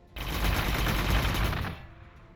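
A sustained burst of rapid automatic gunfire from units firing in Warhammer 40,000: Gladius, loud and dense for about a second and a half before cutting off sharply into a faint tail.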